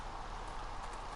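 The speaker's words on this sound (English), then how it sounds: "I do hear a little bit of rain actually." Rain falls in the video game 7 Days to Die, a soft steady patter and hiss heard alone for a brief moment.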